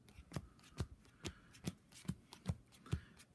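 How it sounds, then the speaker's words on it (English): Magic cards being pile shuffled by hand, dealt one at a time onto separate piles: seven crisp, evenly spaced taps and slaps, close and fairly loud, with no talking. "So when people pile shuffle,"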